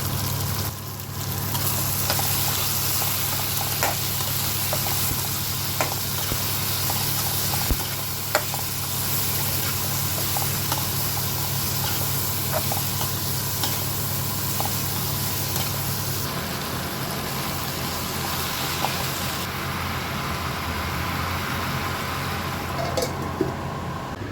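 Chopped tomatoes cooking in a pan with turmeric, salt and a little red chili, a continuous loud close sizzle and frying hiss with occasional stirring clicks throughout.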